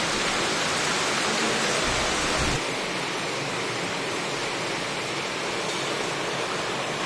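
Heavy rain pours outside a house next to a lychee orchard, a steady dense hiss that is louder for the first few seconds and then settles slightly softer, with no voices.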